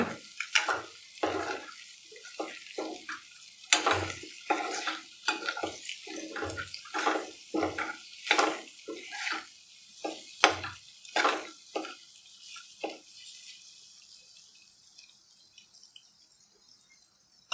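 Egg masala stirred in a pan with a spoon produces a string of wet scraping and clinking strokes in an irregular rhythm, close and fairly quiet, thinning out toward the end.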